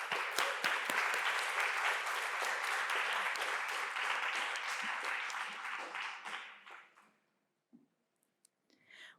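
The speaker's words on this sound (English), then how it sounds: "Let's give them one more round of applause" An audience at a gender and justice symposium panel gives the departing panelists a sustained round of applause, loud and steady for about six seconds before thinning out and dying away into near silence with a few stray claps.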